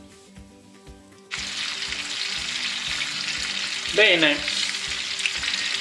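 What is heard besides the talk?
garlic clove frying in heated oil and butter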